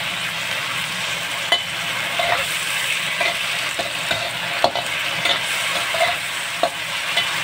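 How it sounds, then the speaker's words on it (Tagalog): Potatoes frying in a pan with vinegar, soy sauce, garlic and pepper, a steady loud sizzle with repeated scraping stirs and light clinks of the utensil, close up and without talk. "Ang potato na niluto sa suka, toyo at bawang, may paminta"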